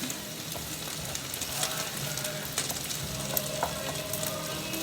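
Pad Thai ingredients sizzle and fry steadily in a pan, with scattered scraping and clinking as they are pushed around, close and fairly quiet, with no talking.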